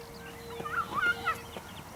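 A flock of large waterfowl, swans or geese, calling across an open field: a few honking, clucking calls rise and fall over two seconds, moderately distant against a quiet outdoor background.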